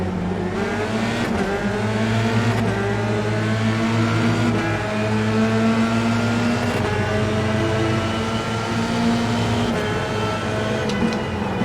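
A pack of F3 race cars in the iRacing video game accelerates at the race start, multiple engines revving and climbing through gears in a loud, continuous droning blend.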